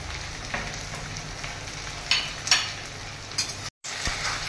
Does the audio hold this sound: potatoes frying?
yes